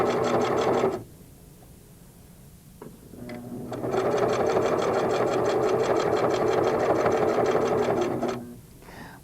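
A Singer sewing machine stitches in the ditch along a quilt binding: a fast, steady, rhythmic mechanical whir runs for about a second, pauses with a soft click, then resumes in a longer unbroken run, close and clear with no talk.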